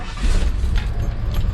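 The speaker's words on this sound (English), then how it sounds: "So let's fire this thing up, let it warm up, and see what happens." A 1978 Ford F100 truck fitted with a Holley Sniper EFI system, parked for years, fires up. Its engine gives a loud, close, throbbing low rumble with slight rhythmic pulsing.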